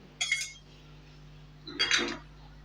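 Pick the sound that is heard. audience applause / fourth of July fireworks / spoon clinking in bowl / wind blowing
spoon clinking in bowl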